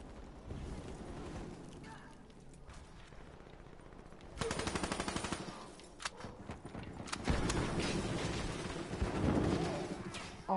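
Gunfire and explosions erupt in a Black Ops 3 multiplayer match, starting as a distant background rumble and then breaking into loud rapid bursts of automatic fire and booming blasts.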